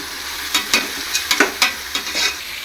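Onions sauté in a pan for prawn biryani, an even sizzle punctuated by several sharp scraping stirs of a spoon against the pan, close and clear with no talk.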